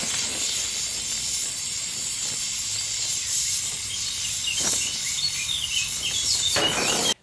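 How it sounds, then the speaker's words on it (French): A blowtorch flame hisses steadily against the bare metal body of a Citroën Traction 11B during welding prep, a continuous bright rushing noise with a couple of faint clicks near the end. "un petit coup de chalumeau."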